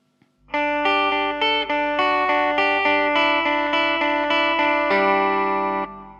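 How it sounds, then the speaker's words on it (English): Sustained electric guitar chords strummed in a steady rhythm, washed in reverb with a lingering tail after the final chord rings out. "I'm going to add a little bit of reverb now"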